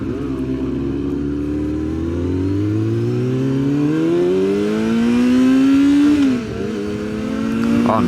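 A sport bike engine revs up with a rising pitch as it pulls away, loud and close throughout, with a brief dip near the end before the revving climbs again.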